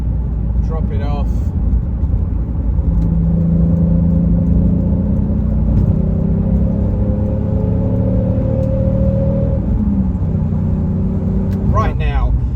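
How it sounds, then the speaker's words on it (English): A manual Toyota Supra MK4 accelerates gently, its engine and exhaust humming close by. The smooth tone rises slowly and then drops off, and someone talks briefly at the start and end. "See, that is a really nice dropping off engine tone"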